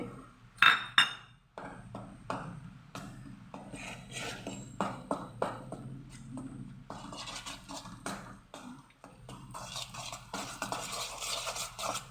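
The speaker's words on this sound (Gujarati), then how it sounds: "ઘી ગરમ થઈ ગયું છે ધીમા ગેસે લોટ શેકવાનો છે" Rajgira flour being stirred and roasted in ghee over low heat, a spoon scraping and clinking against the pan in irregular strokes that grow busier and more continuous toward the end.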